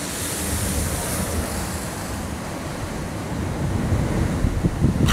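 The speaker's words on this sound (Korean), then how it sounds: "파도가 이렇게 바람 때문에 올라오는 거구나." Wind-driven ocean surf churns near Ensenada, Mexico, a loud continuous roar of breaking waves mixed with heavy gusts buffeting the microphone, swelling louder toward the end with no voices.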